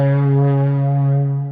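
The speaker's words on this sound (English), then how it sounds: "I've got that kind of the amp drive going on." Electric guitar through an amp drive preset, one sustained overdriven chord with stacked harmonics ringing clearly and evenly before beginning to fade near the end, played alone.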